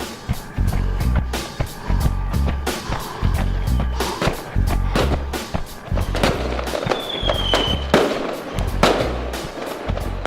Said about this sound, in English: the way you combine the sounds of a gun being fired as well as popping of like fireworks